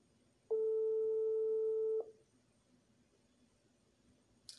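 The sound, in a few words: phone call tone waiting to be answered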